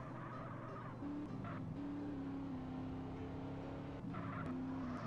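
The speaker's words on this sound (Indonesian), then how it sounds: "Aduh, kita gagal, ngedrift gagal nih." Sports car engine revving steadily with tire skids and squeals during a drift in a GTA racing game, loud and continuous with no talk.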